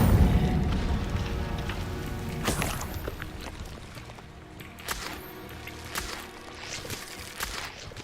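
Incendio fire spell cast in the Hogwarts Legacy game: a loud whooshing burst of flame stands out partway through, followed by scattered crackles and softer magical effects over a rumbling game background.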